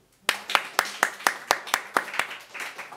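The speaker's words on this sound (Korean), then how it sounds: "박수" About a dozen sharp hand claps from a small group in a church class, evenly paced and close, with a brief voice at the start and softer clapping trailing off at the end.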